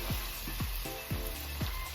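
Liver frying in a pan for menudo, a soft steady sizzle with a few quiet low thumps as the pieces are moved.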